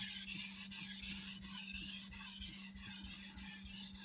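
A kitchen knife is drawn along a sharpening stone in steady, repeated rasping strokes, quiet and close, each pass a soft gritty scrape with a low steady hum beneath.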